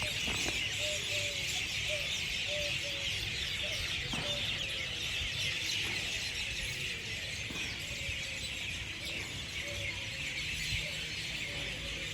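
Scattered clucks and short squawks of chickens over a steady outdoor background hiss.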